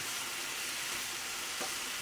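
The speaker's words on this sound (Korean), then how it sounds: "김치볶음밥은 좀 눌러붙으면 좋아서 저는 좀 오래 볶는 게 맛있는 것 같아요." Kimchi fried rice, with a splash of sake, sizzles and crackles steadily in a pan as it is stir-fried at length to let it crisp and stick, a continuous close hiss with a faint scrape near the end.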